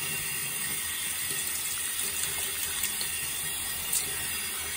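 A Philips triple-head electric shaver rinsed under a running tap, a steady hiss of flowing water with faint clicks and rattles of the shaver under the stream.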